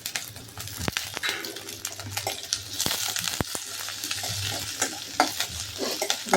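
Chopped onion and curry leaves sizzle and are stirred in a hot pan, with a steady frying hiss, sharp scrapes and clinks of the spatula against the metal close by, and no talking.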